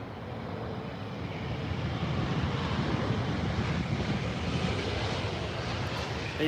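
At Heathrow Airport, an airliner on its landing approach with flaps down gives a steady, loud jet roar that swells slightly as it nears, with some wind noise across the microphone.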